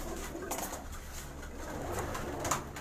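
Pathan-breed pigeons, including black ones, coo softly in a breeding loft, faint, low repeated coos under a steady hum of background noise with a few quiet knocks.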